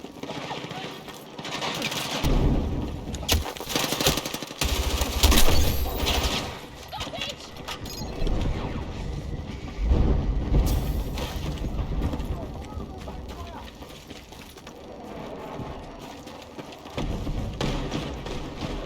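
Bursts of gunfire and booming explosions rattle through a busy Battlefield 6 soundscape, with heavy thuds and a voice talking over the chaotic din.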